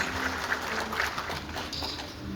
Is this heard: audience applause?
yes